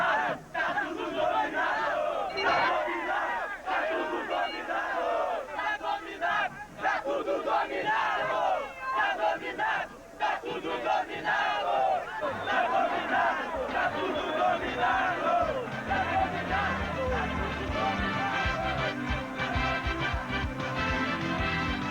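Large crowd of football supporters roaring and chanting at a state championship match played in the rain, a loud, dense, continuous wall of cheering that swells and stays strong throughout.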